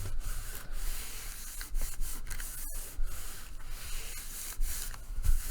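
Material being smoothed out by hand over tape on a window cover, a close, steady rubbing and brushing hiss with a few brief pauses and no speech.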